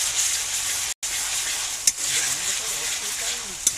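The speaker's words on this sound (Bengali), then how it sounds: "আদা রসুনটা ঢেলে দেওয়ার পরে নাড়তে হবে।" Ginger garlic paste stir-fried with onions for beef biryani, a close, steady sizzle with stirring and a couple of sharp spatula knocks, interrupted by a momentary cut near the start.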